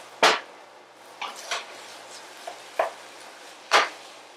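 Spoon stirring shrimp and plantain stew in a pan, a few separate scraping clacks spaced irregularly over several seconds, close and moderately loud against a quiet background.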